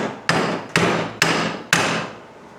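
A hammer strikes a transmission four times in an even rhythm, each blow a loud, sharp metallic clank with a short ringing decay, close up and with no talking.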